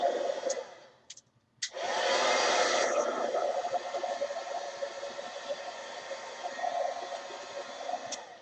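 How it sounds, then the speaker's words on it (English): A heat gun clicks on and blows a steady, hissing rush of air over packing tape, loud at first and then softer as it is moved around, with a few clicks beforehand and no talk. "you definitely have to continue to move your heat gun around so that you're not going to melt the tape."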